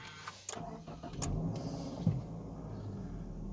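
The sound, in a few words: 2019 Subaru Legacy Sport engine starting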